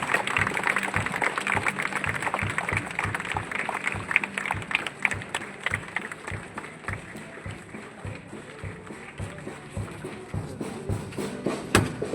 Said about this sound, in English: A thunderous round of applause, students.